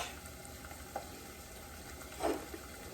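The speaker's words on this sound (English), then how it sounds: "So we're going to saute down these onions." Onions sauteing with a pinch of salt in a pan, a steady soft sizzle running throughout with a couple of brief louder crackles, no talking.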